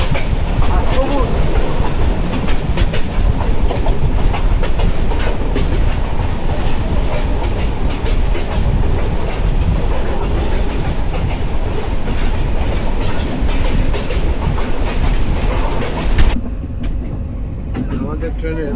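The Mohonganj Express passenger train runs at about 50 km/h with a loud, steady rumble and rhythmic clatter of wheels on rails, then drops abruptly to a quieter hum near the end.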